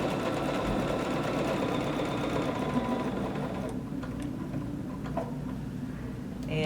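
Sewing machine stitching through a quilted table runner sandwich: a steady, rapid mechanical ticking hum running close and continuous, with faint clicks near the end and no voices.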